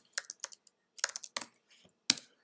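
Quick bursts of keystrokes clatter on a computer keyboard, close and crisp, in short uneven clusters separated by brief pauses.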